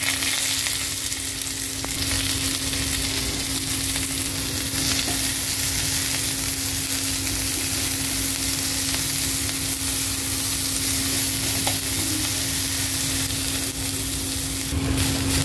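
Sliced onion and green chillies frying in oil in a pan, a loud, continuous sizzle that holds steady for the whole stretch, with soft stirring scrapes underneath.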